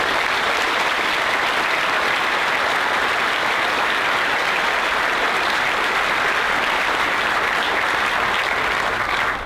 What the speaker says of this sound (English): join me in recognizing their commitment to our students, your graduates today, with a well-deserved round of applause.